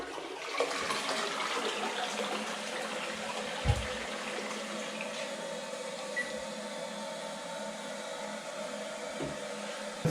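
A Toto toilet in a modern tiled bathroom flushes with a steady, loud rush of water that swirls and drains over several seconds, close by with no talking.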